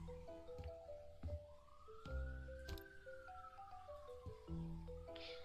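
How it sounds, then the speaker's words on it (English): A wailing siren rises and falls in long sweeps, faint and far off, beneath a background of musical tones and soft clatter from the game House Flipper 2. "I can faintly hear sirens."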